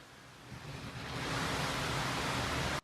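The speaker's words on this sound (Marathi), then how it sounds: "बघा हे किती पाऊस आणि म्हणजे थांबायचं नावच घेत नाही" Heavy monsoon rain pours in a dense, unbroken roar that swells louder after the first second and holds steady until cutting off abruptly.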